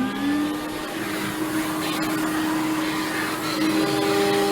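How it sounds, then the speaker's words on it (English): A dust-collection vacuum runs steadily beside a CNC router cutting a logo into wood, a loud continuous whine with a rising tonal hum and constant broadband noise throughout. "Let me start up the vacuum."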